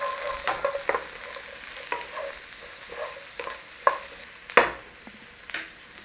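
Beef, ginger and thick green onion pieces stir-fried in a hot pan, a soft sizzle under repeated scraping stirs and clattering tosses that come in irregular bursts, a few louder strikes toward the end.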